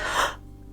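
A human yawn voiced by a narrator, heard as a short, breathy, airy inhale that fades within a fraction of a second, close and alone.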